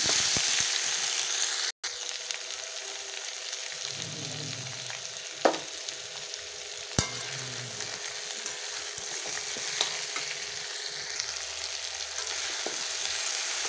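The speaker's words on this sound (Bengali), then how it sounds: "কুমড়ো আর আলুটা কষিয়ে" Pumpkin and potato sauté in a pan with a steady, broad sizzle, and a few sharp clicks of a spatula against the pan stand out. No one speaks.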